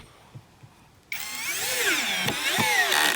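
Masaru MSR-CD204 cordless drill driving a black screw into wood: a quiet start with faint taps, then a loud, steady whirring drive for about two seconds with shifting pitch as the screw bites, stopping abruptly.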